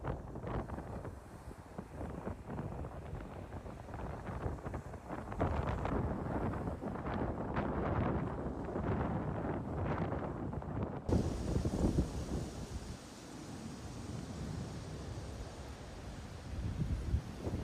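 Strong nor'easter wind gusts on a storm-battered beachfront during flooding and heavy surf, roaring steadily across the microphone with a low rumbling buffet that rises and falls, loud and constant throughout, with no voices.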